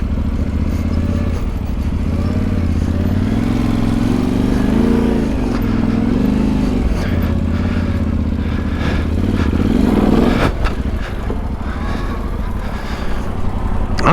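A motorcycle on an adventure challenge course creeps along in low gear while the rider stands on the pegs, its engine a steady close idle-level drone with small throttle swells and a brief rise near the end, plus some clatter.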